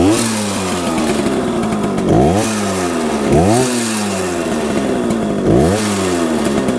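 A 1966 Harley Davidson Aermacchi M50S two-stroke motorcycle engine revs repeatedly and close, four sharp throttle blips rising and falling over a raspy, buzzing idle.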